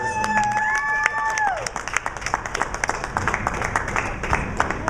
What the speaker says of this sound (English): Thanks so much for sticking around and cheering on